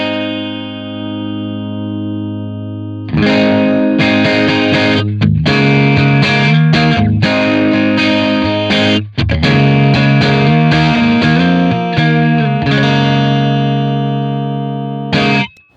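An electric guitar plays through a Master Effects JC Pre preamp pedal, starting with a sustained ringing chord and then moving into busy, loud strummed and picked passages, the level shifting as the volume is adjusted, with no talking.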